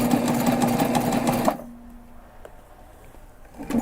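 A sewing machine stitches a backpack in a short, rapid, rattling burst, then cuts off abruptly and leaves near silence with a faint click or two.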